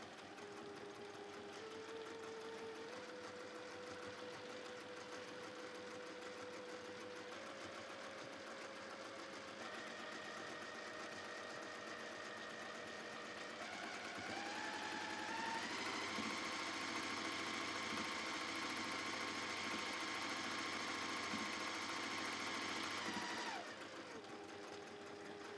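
A sewing machine stitches across brushed cotton, humming steadily at first, then speeding up into a higher, faster whir for several seconds before slowing again, with no talking.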